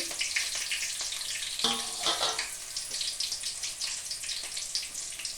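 Onions and curry leaves fry in hot oil in a pan: a bright, loud, continuous sizzle with crackling spits and a few stirring scrapes, close up, with no talking.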